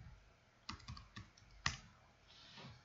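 A few quiet keyboard key clicks in a short irregular burst, soft and close, with no voices.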